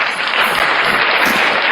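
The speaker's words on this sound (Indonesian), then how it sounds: "Tepuk tangan" Applause breaks out from a church audience during a religious debate, a dense, steady clatter of many hands clapping together throughout.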